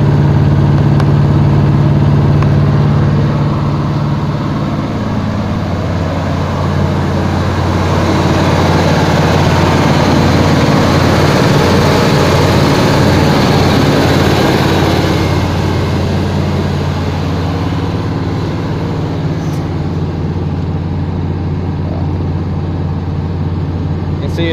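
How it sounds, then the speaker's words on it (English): A carbureted engine idles steadily at about 1800 RPM with an exhaust leak, giving a continuous low, rough rumble close to the microphone. No one talks over it. "As you can tell, I do have an exhaust leak"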